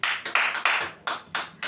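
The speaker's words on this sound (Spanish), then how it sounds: "Denle un aplauso a Dios." A church congregation applauds together, a steady, loud wash of clapping with rhythmic surges that swell and ease over a couple of seconds, with no voices over it.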